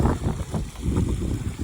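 Strong gusty wind buffets the microphone beside a lake shore after winter, with a rushing, uneven roar and the faint wash of water beneath.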